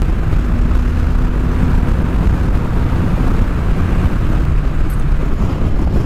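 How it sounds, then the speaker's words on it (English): Deep, quiet motorcycle exhaust rumbling steadily and up close for the whole stretch, mixed with heavy wind buffeting and no speech. "the pipe on it, the exhaust on it is very deep and I would say quiet"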